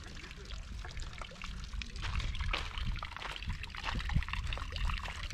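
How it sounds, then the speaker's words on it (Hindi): A light trickle of water runs from a duck-shaped fountain at a public spot in Serbia, its supply nearly spent, making a steady soft splashing and dribbling with some faint background noise. "बत्तख के मुंह से पानी निकल रहा है, इधर से निकल रहा है"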